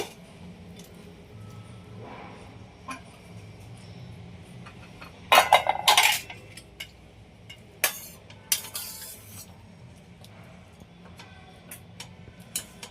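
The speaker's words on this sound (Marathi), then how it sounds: "कुकरचं झाकण उघडूया." Metallic clicks and clanks, then a sharp hiss of escaping steam as a pressure cooker lid is twisted and lifted off tomato soup, followed by a few more clinks.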